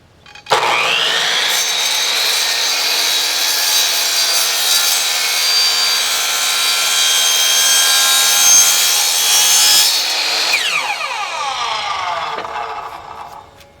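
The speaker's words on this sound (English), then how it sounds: "So I've started to shave the plastic, and I can notch a little bit more off this time." Plastic synthesizer module casing from an ARP Pro Soloist is cut and shaved with a tool, giving a continuous close, loud rasping grind for around ten seconds, then a brief trailing scrape as it stops.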